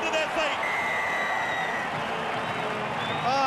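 A rugby league crowd at St George cheers and applauds after a try in a 1996 match against Newcastle, a broad roar with whistles rising near the end, under excited commentary.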